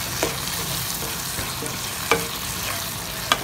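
Spicy Telangana-style tomato curry being stirred in a pan after coriander leaves and coriander powder go in, with a steady loud sizzle and a few sharp spoon scrapes against the pan.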